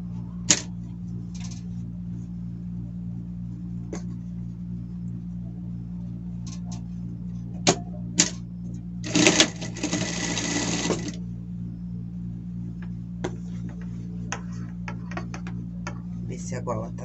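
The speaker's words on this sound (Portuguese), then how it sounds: "E aqui, a gente passa uma costura." A sewing machine stitching a denim shirt collar runs in one brief burst of rapid whirring, set against a steady low motor hum and scattered small clicks and taps.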